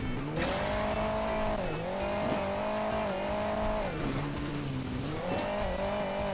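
Car engine from the mobile racing game Hill Climb Racing 2, a sports car driving behind, droning steadily with rising and falling revs and brief tyre squeals throughout, loud and continuous.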